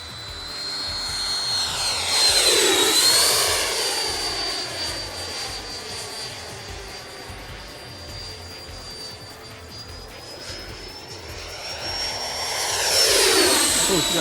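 Freewing F-16 90mm RC jet rolling down a runway, a loud high-pitched electric ducted-fan whine that sweeps past close by, fades somewhat, then swells again as it returns.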